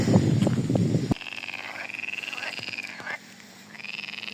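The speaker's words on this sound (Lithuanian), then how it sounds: "Eina sau kiek varlių." Frogs croak in a dense chorus at an overgrown pond in the Vilnius University Botanical Garden, with a burst of low noise at the start followed by steady pulsing calls and higher trilling tones.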